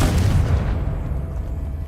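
A single Confringo blasting spell going off in Hogwarts Legacy inside a witch's tomb, a deep booming burst at the start that rumbles and decays over a couple of seconds.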